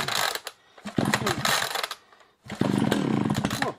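Chainsaw being pull-started by its cord: three rough bursts of ratcheting, sputtering pulls separated by short pauses, loud and close, with no engine catching.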